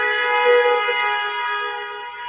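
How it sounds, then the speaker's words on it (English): A vehicle horn blares in traffic as one sustained, loud, steady tone held for a couple of seconds, with no pauses or separate honks. "Was that a strategic honk?"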